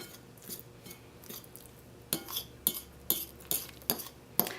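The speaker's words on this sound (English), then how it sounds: "Just use the fork and just gradually place the vodka in the dry areas" A fork scrapes and taps against a bowl while vodka is worked into pie crust dough, giving sparse soft scrapes and then a run of sharper clinks, close and with no talking.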